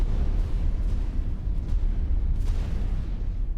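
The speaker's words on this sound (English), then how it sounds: "Yeah, the new explosion effects are very nice." A low, rumbling explosion effect from the space game X4 roars continuously, deep and heavy, with a few faint crackling bursts layered on top and no speech.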